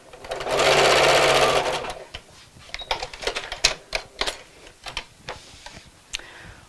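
A sewing machine stitches a fabric Christmas gift sack in a short, loud two-second burst of whirring, followed by a run of sharp clicks and taps as the fabric is handled.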